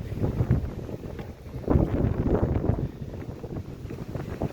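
Strong wind on an exposed street in Ufa buffets the microphone in irregular low gusts, a continuous rumbling rush with a louder surge midway.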